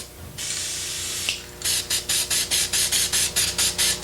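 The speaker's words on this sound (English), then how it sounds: "get some just flat black spray paint, it works really good, and just spray a light coat" A can of flat black spray paint hisses in one long continuous burst over body filler on a car, then a series of short, rhythmic sprays follow in quick succession, close by.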